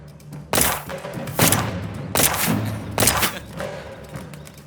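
Gunshots fired at bottles in an action thriller film scene: four loud, sharp reports spaced roughly a second apart, each trailing off in a short echo.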